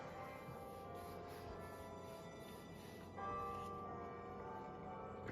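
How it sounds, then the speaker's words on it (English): A church bell rings on a Sunday from a nearby church, a faint steady tolling carried under a dense tonal backdrop with no speech, growing slightly louder partway through. "Apologies about the church bell."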